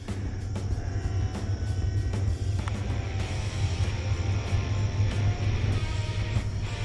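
A Flybear FX807 two-channel RC airplane flies at full throttle while turning, its small electric motor droning loudly and steadily throughout with a sustained buzzing whine.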